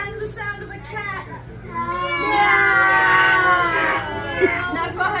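A voice imitates a cat, drawing out a loud, wavering meow during a playful yoga game, with other voices around it.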